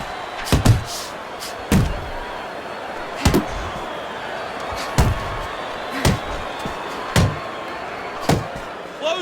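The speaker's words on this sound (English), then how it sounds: "Big uppercut right on the mark." Punches thud in a Fight Night Champion boxing match, a big uppercut landing among a steady series of about eight sharp, evenly spaced impacts over a low crowd murmur, with no speech.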